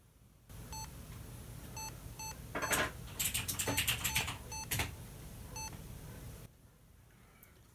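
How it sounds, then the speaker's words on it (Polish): A dead Lenovo ThinkPad T420 laptop sounds a motherboard error code of short, clear electronic beeps in a 1-3-3-1 pattern. Clunks and rustling handling noises from the machine break in partway through. "daje taki sygnał dźwiękowy 1, 3, 3, 1"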